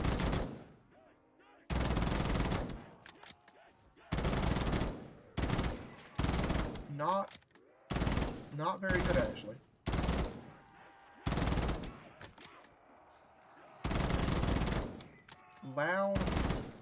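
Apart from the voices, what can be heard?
M4 rifle firing in Black Ops 3 Zombies video game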